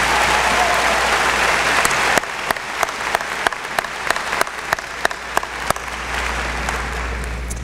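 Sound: applause at a high school graduation

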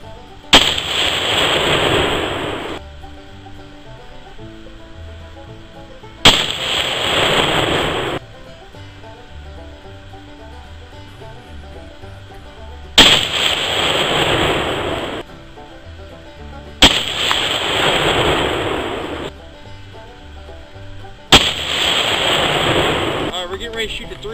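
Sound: rifle gunshots: .223 AR, 22-250, .308, 7mm

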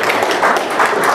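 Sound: golf-style rolling applause from the audience

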